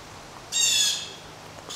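A single harsh bird squawk bursts out midway, loud and nearby, with a fainter call starting just at the end over quiet background.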